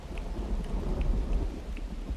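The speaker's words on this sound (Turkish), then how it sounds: "Yağmur yağdırdı" Rain and thunder in the god-simulation game The Universim, a low continuous rumble with dense rainfall hiss throughout, steady and fairly loud, with no one speaking.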